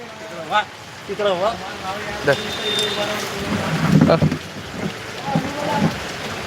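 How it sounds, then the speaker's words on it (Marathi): Steady rain patters in the background while people talk over it. "नांदेडला पाऊस आहे का पटकन सांगा आमच्याकडे चालू आहे"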